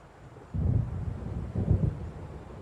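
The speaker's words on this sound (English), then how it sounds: "It seems there's a storm coming" Two deep, low rumbles of thunder roll in from an approaching storm over open water in Alan Wake Remastered, each swelling and fading, the second about a second after the first, under a steady windy hiss.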